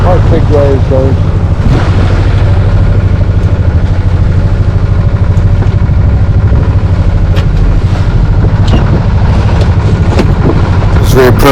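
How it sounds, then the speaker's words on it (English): Loud, constant roar of wind and big, rough sea waves around a sailboat, with heavy wind buffeting the microphone throughout. "That's quite big waves though."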